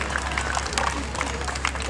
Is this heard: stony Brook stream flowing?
no